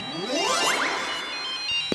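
A phone rings with an electronic ringtone of rising, sweeping tones followed by a couple of sharp clicks, moderately loud, alone in a cartoon scene.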